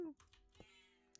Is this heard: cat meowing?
yes